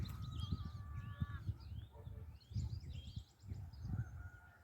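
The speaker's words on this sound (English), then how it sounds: "There's another rooster there with some chicks, some chickens." Free-range chickens, including a rooster and his chicks, cluck and call steadily around a farmyard, with higher cheeps and squawks scattered above a constant low flock murmur.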